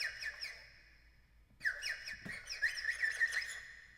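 A sampled bird call from the Ample China Erhu instrument library plays as whistled chirps, a short trill, a pause, then a longer run of bright, squawky tweets, clear and without talk.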